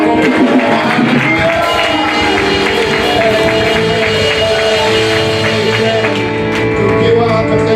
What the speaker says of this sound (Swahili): Ongezeni kupiga makofi tena, makofi.